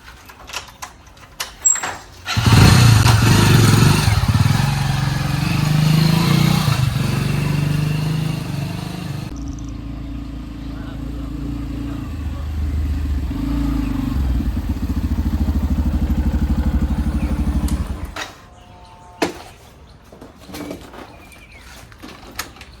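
A motorcycle engine starts up nearby and runs steadily for several seconds, idling and revving before moving off and fading, with some clattering at the start and end.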